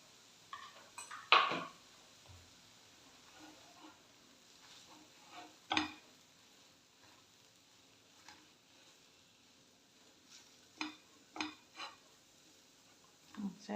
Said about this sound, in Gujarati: સારી રીતે હલાવી અને ઢાંકીને પાછું ગેસ બંધ કરી દઈશું